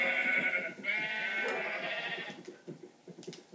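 Sheep in the Minecraft video game bleat in a loud, wavering cry, followed by a run of short, choppy bleats and clicks from several animals, with no talk over them.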